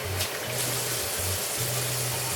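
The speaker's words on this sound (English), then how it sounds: "So I'm gonna wash my hands again." Running tap water splashing over hands being washed at a kitchen sink during cooking, a steady close gush with a low pump-like hum throughout, no talking.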